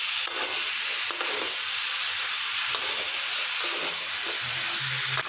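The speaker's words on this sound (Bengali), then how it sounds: "কাবলি ছোলা দিয়ে এখন খুব ভালোভাবে কষতে হবে।" Boiled, drained chickpeas searing in a pan with spices, a loud continuous sizzle and steamy hiss that runs unbroken throughout, with faint scraping stirs underneath.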